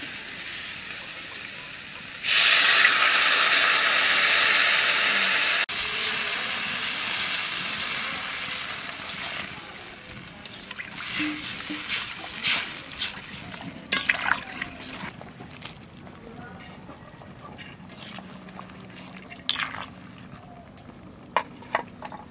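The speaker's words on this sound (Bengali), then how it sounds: "এইবার জল দিয়ে দেবো" Water is poured into a pan of koi fish and potato curry, giving a loud steady rushing splash for a few seconds before it settles into softer simmering bubbles and scattered clatter.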